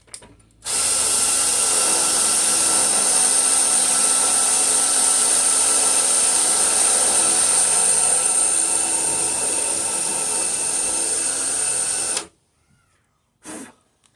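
A power drill with a dull bit grinds into a weld on a car's radiator support, a loud continuous high whine for about eleven seconds, then it stops and a short final burst follows.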